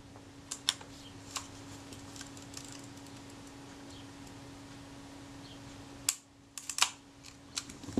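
Cocking the shutter of a Kodak Retina IIIC camera that has a faulty cocking rack gives faint scattered mechanical ticks, then a sharp cluster of clicks near the end over a quiet background hum.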